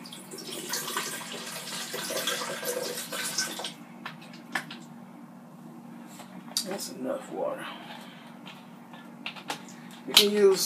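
Coconut water splashes and trickles steadily into a blender or glass for a tropical smoothie, a close running pour that fades after a few seconds into lighter clinks and handling noises in a quiet kitchen.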